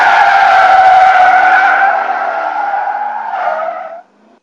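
A Corvette's tires squeal hard through a high-g turn, one loud, sustained screech close by that holds steady for about four seconds before fading out abruptly.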